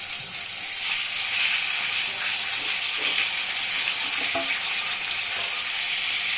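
Katla fish pieces fry in hot oil, giving a loud, steady, bright sizzling hiss with a few soft knocks and clatters from the pan, close up and with no talking.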